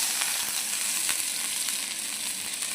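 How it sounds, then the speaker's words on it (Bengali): Ginger-garlic paste hits hot oil in a pan while a Bengali mustard fish curry is being cooked, giving a continuous, even sizzle close to the mic with a few crackling pops and no talk. "তেল গরম হয়ে গেছে। এবারে প্রথমে দিয়ে দেবো আদা রসুন বাটাটা।"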